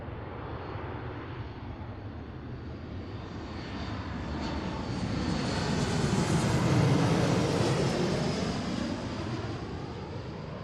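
An Aeromexico Boeing 737 MAX 8 jet arriving at Seattle on runway 34L makes a broad, steady engine roar that swells louder as it passes close, peaks, then eases slightly, with no talk over it.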